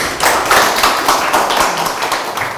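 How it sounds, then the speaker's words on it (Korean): Residents at a neighborhood meeting with city officials clap together in a brief burst of steady, moderately loud applause that tapers slightly at the end. "다 같이 한번 박수 한번 칩시다"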